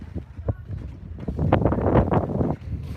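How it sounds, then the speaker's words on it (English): Gusty wind buffets the microphone outdoors at the Göbekli Tepe archaeological site, a continuous rumbling roar that swells louder midway and stays steady, with no voices heard. "It's pretty windy here."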